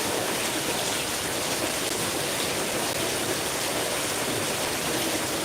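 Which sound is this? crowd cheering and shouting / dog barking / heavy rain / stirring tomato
heavy rain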